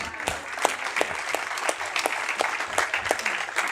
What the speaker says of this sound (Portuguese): Vamos aplaudir o Espírito Santo?